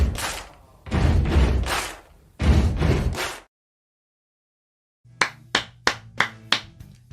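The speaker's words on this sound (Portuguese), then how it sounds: "Essas palmas são para o Paulo Souza" A deliberate run of claps: a few loud, heavy, muffled hand claps first. After a short silence comes a quicker series of five or six crisp, evenly spaced claps.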